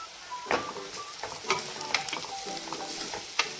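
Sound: stirring coriander powder and red chili into frying paste

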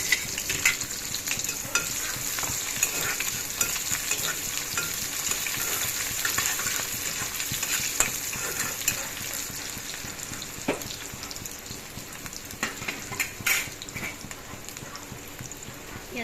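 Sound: onions frying in oil with five-spice seeds

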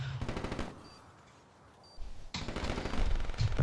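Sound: gunfire in video game Black Ops 3

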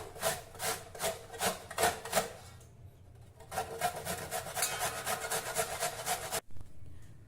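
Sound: grating Indian gooseberries (amla) on a grater

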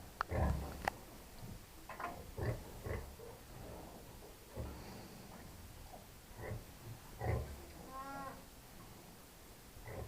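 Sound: piglets suckling from their mother sow

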